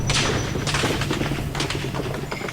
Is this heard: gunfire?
yes